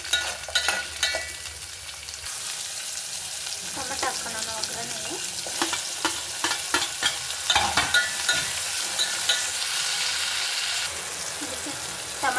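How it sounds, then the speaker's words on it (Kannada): Onion fries in a pan for a horse gram sambar, a loud continuous sizzle broken by repeated scraping stirs from start to finish. "ದೊಡ್ಡ ಈರುಳ್ಳಿನೇ ಸ್ವಲ್ಪ ಫ್ರೈ ಆಗಲಿ"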